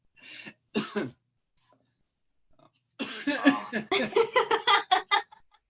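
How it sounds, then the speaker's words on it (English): Two short bursts of coughing, then a pause before a run of loud, choppy, broken-up vocal sounds that continue for a couple of seconds. "Now I'm coughing over it."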